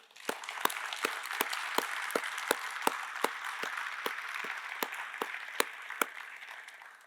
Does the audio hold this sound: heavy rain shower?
no